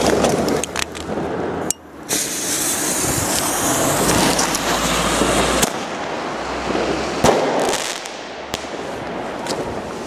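A Defender 1 XXL firework tube goes off outdoors, with sharp explosive bangs and crackling bursts scattered over about ten seconds. Loud booms stand out against a continuous rushing noise.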